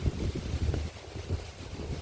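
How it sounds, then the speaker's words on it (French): Wind rising outdoors on the northern Finistère coast, a low, rumbling buffet against the microphone that swells and eases in gusts for the whole stretch, with no voices. "le vent s'élève"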